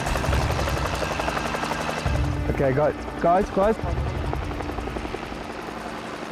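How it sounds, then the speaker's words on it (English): A helicopter's rotor thrum and engine whine drone loudly and steadily overhead during a Kenya wildlife anti-poaching exercise, while people talk nearby and a brief burst of chirping cuts through the middle. "The use of the chopper provides a strong advantage."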